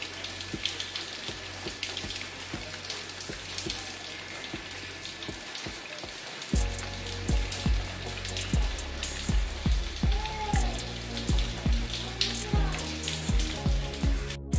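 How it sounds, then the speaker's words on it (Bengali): Rain falls outside in a steady, soft patter that fills the first half, then continues beneath a run of rhythmic low thumps nearby. "আর আজকে দেখো বাইরে বৃষ্টি হচ্ছে।"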